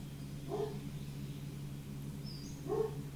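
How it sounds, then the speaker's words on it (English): Dogs bark indoors in the background, two short muffled barks spaced about two seconds apart, faint and distant against a quiet room. "So apologize for the barking dogs."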